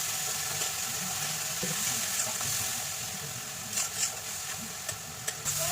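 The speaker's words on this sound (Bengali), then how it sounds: "জিরে ধনে লাল লঙ্কার গুঁড়ো রেড চিলি পাউডার ধনিয়া আর জিরে দিয়ে ভালো করে কষাবো" Spice powders of cumin, coriander and red chili sautéing in hot oil for egg curry give a steady soft sizzle throughout, with a few brief scraping stirs near the end.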